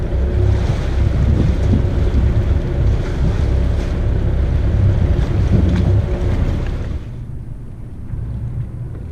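A sailboat under way around an island meets waves and strong wind. The loud rushing water and the wind buffeting the microphone make a steady roar that drops away sharply near the end.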